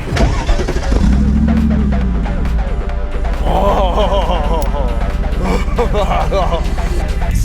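A compressed car engine starts and revs hard, loud and close, with rising and falling whines over a steady roar; a voice talks over the engine noise throughout.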